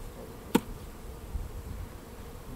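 Honey bees hum in a low, steady drone as a hive is opened for a summer inspection, with a single sharp click early on and no voices.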